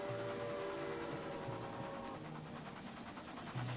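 Train rolling along in the railway management game Railway Empire, a steady rumbling clatter with faint tonal hum, continuous and moderately distant with no talk over it.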